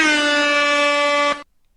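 Loud air horn sound effect, a single sustained, rich harmonic blast lasting about a second and a half before cutting off abruptly into silence.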